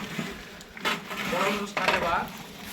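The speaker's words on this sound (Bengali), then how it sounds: "এই যে তরকারি রান্না করতেছে।" Curry cooking in a large pot at a picnic, with clattering metal pot and utensil sounds and stirring scrapes, close by, under background voices.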